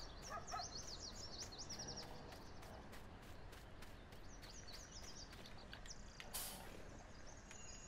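Chickens cluck and chirp in Farming Simulator 19, a steady busy layer of bird calls over constant game ambience, with one brief louder burst.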